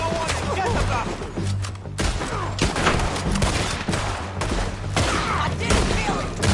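Rapid gunfire in Red Dead Redemption 2, repeated loud shots crackling in an irregular volley, with shouting voices mixed in among the blasts.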